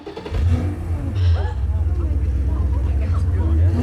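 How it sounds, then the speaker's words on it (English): Car engine in a crowded showroom, a low steady rumble rising as it revs, loud and close, with people talking and shouting over it. "Starting a car in a crowded showroom?"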